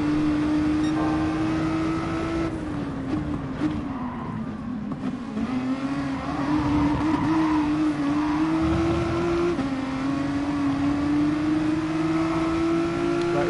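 GTI Roadster VGT in Gran Turismo Sport held at full throttle, a loud sustained engine drone with steady pitch rising and dipping slightly through gear and speed changes, with faint tire squeal.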